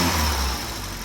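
A 1980 Triumph Spitfire 1500 engine runs at higher RPM, a steady close mechanical drone with a faint rattle, brief and without speech.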